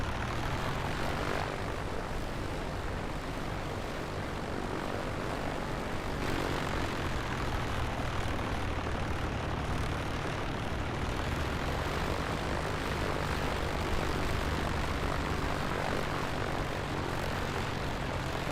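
An A2A Comanche propeller plane taxis off the runway in Microsoft Flight Simulator 2024, its engine droning in a steady, even roar that holds at one level throughout.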